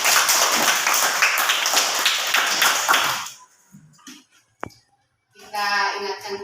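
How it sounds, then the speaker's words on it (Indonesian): Rapid group clapping from schoolchildren in a classroom rings out for about three seconds and then stops, leaving a quiet pause, a single sharp tap, and then young voices. "Mari kita tepuk tangan buat Dika"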